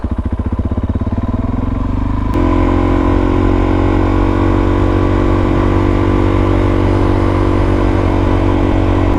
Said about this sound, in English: The DRZ is always a good bike to go to.